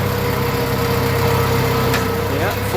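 Steady drone of a Farmall 400 tractor engine at low idle while the Hydra-Touch hydraulics lift a bucket, a continuous close rumble with a faint rising whine near the end.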